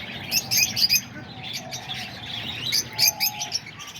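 Parakeets and lovebirds chirp in a busy aviary at a pigeon loft on a rainy day, with bright overlapping tweets in bursts over a low background rumble.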